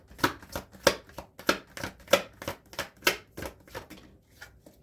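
Cards riffled and shuffled by hand for a tarot-style reading, a rapid run of crisp papery bursts, close and fairly quiet, alone with no voices.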